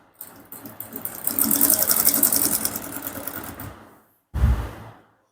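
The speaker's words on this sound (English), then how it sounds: "That's why we are trying to sew it down this way." Sewing machine stitching down the neck of a dashiki, a rapid mechanical chatter running steadily for about four seconds, then a brief pause and a short low thump at the end.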